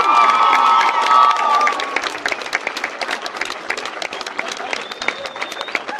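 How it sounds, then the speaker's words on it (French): A film premiere crowd applauds and cheers for the director, loud dense clapping with shouts and whistles that open strong and then settle into continuous clapping. "Applaudissements pour le réalisateur s'il vous plaît."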